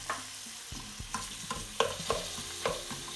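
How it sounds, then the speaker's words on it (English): Red onions gently frying in melted ghee, a soft sizzle under repeated stirring or scraping clicks that come every half second or so, close and fairly quiet, with no voices. "Ghee's melted, in with the onions. I'm going to gently fry these"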